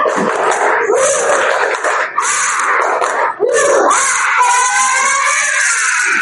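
A class of schoolchildren repeats the tepuk semangat clapping cheer, young voices chanting together over patterned claps, loud and near, running steadily with short pauses between bursts.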